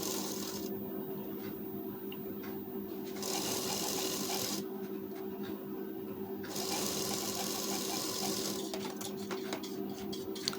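An electric sewing machine runs a steady, continuous stitching whir while sewing the lining of a size 35 blouse. The motor stops briefly and restarts a few times, close by and moderately loud, with no talking over it.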